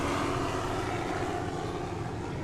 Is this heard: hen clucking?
no